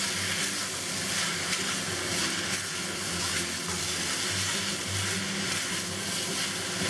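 Beef chow fun noodles with bean sprouts and green onion being turned in a hot wok, giving a steady close sizzle and scraping hiss that holds continuously without speech.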